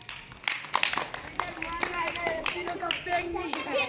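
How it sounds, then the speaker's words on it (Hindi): Schoolchildren in a classroom clap during a maths number game, giving scattered, uneven claps mixed with overlapping children's voices and chatter. "वेरी गुड, तालियां"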